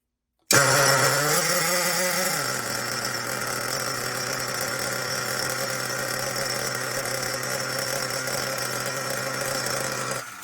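Nitro RC car engine catches after a brief whine, then settles into a loud, buzzing, high-pitched idle that runs steadily close by.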